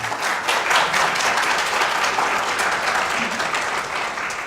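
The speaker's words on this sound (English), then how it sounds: "Please give them a round of applause." Audience applause for debate candidates and a moderator at the GABWA forum, a dense, steady wash of many hands clapping at close range that holds strong throughout and eases only slightly at the end.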